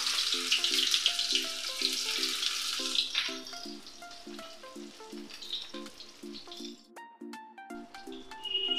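Chopped onion and black cumin seeds frying in hot oil for a fish curry, a loud, close sizzle that starts strong and gradually settles into a softer crackle, with a few clinks along the way.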